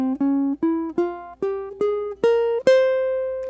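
A Spanish Gypsy (Spanish Phrygian) scale starting on C, eight clear ascending notes played one after another at an even, unhurried pace, each tone sustained and ringing, loud and alone with no talk.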